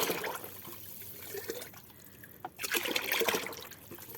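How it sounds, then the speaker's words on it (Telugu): Water trickles and splashes into a half-filled bucket of banana skins and vegetable peels, a continuous close pour that surges and spatters toward the end, with no talk. "దీంట్లో ఇప్పుడు సగం బకెట్ నీళ్ళు వేసుకున్నాం"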